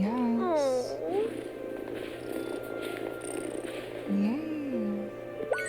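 A cat in the farming video game Wylde Flowers gives a soft purr along with short meow-like calls at the start and again midway, all set against continuous background music.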